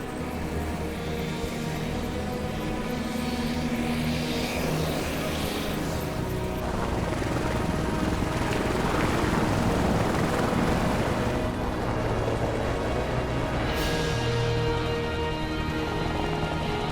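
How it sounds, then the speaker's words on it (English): An air ambulance helicopter lifts off from a highway at a remote mountain-summit crash scene, its steady rotor and engine roar filling the whole stretch, loud and continuous with gusty wind noise layered on top. "Their ambulance is just taking off now."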